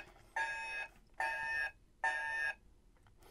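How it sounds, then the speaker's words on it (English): Electronic alarm alert from a 1995 Star Trek Generations Enterprise toy starship, three evenly spaced bright beeping tones, each about half a second, loud and close with short quiet gaps between them. "Oh, an alarm or an alert."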